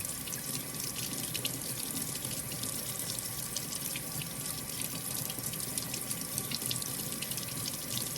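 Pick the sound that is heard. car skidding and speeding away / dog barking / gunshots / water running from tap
water running from tap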